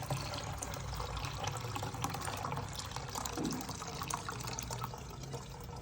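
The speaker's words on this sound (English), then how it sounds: "Alright people, so we're gonna strain." Homemade Jamaican ginger beer, steeped with backyard ginger and now cooled, is strained in a steady close pour of trickling, splashing liquid that runs the whole time without talk.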